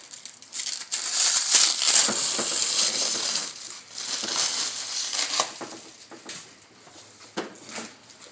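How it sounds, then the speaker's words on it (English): Protective plastic film peeled off a Honda Accord headlight, a close, loud crinkling and crackling rustle in bursts that rise and fade over several seconds, with no talking. "go ahead and peel off the plastic"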